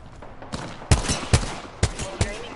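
Gunfire in a PS4 video game cracks out as about five sharp, separate shots spaced roughly half a second apart over a low background.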